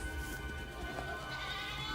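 Goats bleating in a scene from the TV series Severance, a steady, wavering animal cry lasting a couple of seconds at moderate volume with no talk over it.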